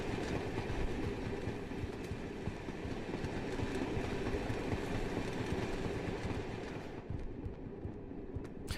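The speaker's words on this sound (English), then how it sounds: "Did I buy train sounds?" Train sound effects for a video game play as a steady, fairly quiet rumble of rail cars rolling on track with faint clattering, continuous throughout and thinning out near the end.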